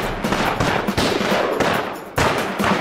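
Gunfire in a war drama rattles as dense, rapid bursts of shots, loud and close, with short pauses between volleys.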